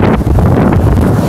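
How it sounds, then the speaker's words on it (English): Strong wind buffets the microphone in a steady, loud roar with gusty low rumbling throughout. "But it's like very windy right now."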